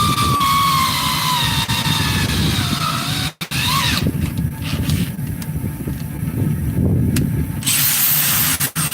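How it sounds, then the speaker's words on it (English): A drill press bores a hole with a steady grinding whir and rumble, the pitch shifting midway with a sharp click and a brief dip before the motor hum resumes. "One hole down. Hey, like that drill press."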